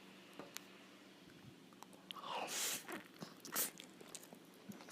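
Close-miked chewing and crunching of a first bite of sushi from an assorted platter with ikura, soft irregular bites with a couple of louder crunchy bursts midway, alone with no talk.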